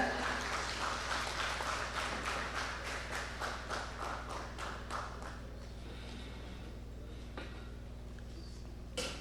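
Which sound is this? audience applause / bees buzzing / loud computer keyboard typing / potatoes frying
audience applause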